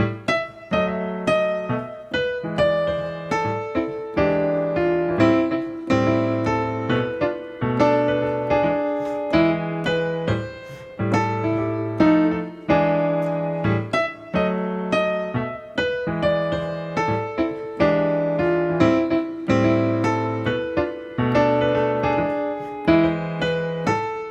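Solo jazz piano playing a lively arrangement with chords and melodic fills, steady and continuous at a moderate volume with no voices.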